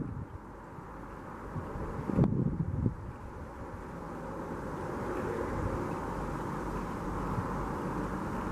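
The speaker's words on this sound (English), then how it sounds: "It's a little windy, but that's okay." Steady wind rumbles and buffets outdoors at the Silver Plume ghost town for the whole stretch, with a brief louder gust of rustling handling noise early on.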